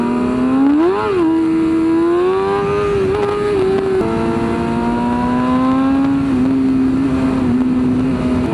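A loud motorcycle on a group ride along a two-lane highway revs hard nearby, its exhaust note swooping up and holding a raised pitch, with engine tone shifting as the throttle changes and no talking over it.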